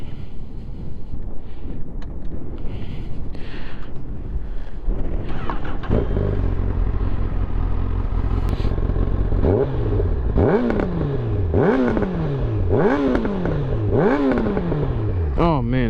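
A Honda CBR1000RR sport motorcycle engine revs hard several times in quick bursts, each rising and falling in pitch, close by over steady wind noise.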